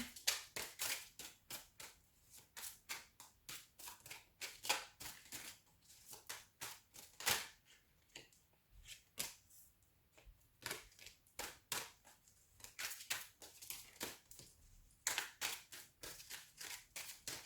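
Rapid, irregular bursts of crisp flicking and snapping as cards are shuffled close by, coming in clustered riffles with short pauses between them.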